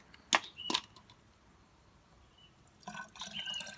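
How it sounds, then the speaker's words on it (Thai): Water scooped and poured into a container of boiled water mixed with fungicide, heard as two sharp splashing pours close by, then a quiet pause and a longer trickling, running pour toward the end. "ตักน้ำครับเทใส่"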